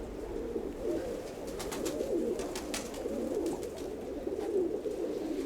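Domestic pigeons cooing in a loft, a continuous murmur of overlapping soft coos from several birds nearby, with a few sharper flutters or clicks scattered through.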